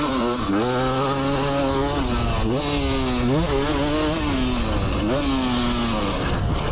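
A Beta RX 2026 350 two-stroke dirt bike revs hard and close, its engine pitch rising and dropping repeatedly as gears change.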